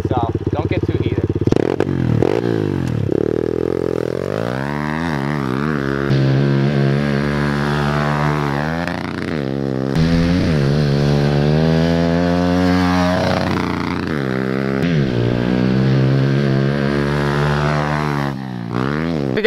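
A pit bike engine runs in a backyard, revving loudly again and again with rising and falling pitch over the whole stretch, close by and dominant, with some talk around it.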